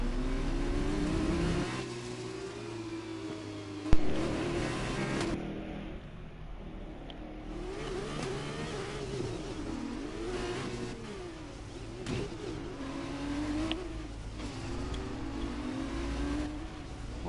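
Formula 2 race car engine in F1 2021 gameplay, a steady loud mid-pitched drone that rises and falls through gear changes and cornering, with a sharp knock near the start.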